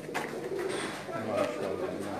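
Soft, low pigeon coos repeat close by, with a voice murmuring in the background.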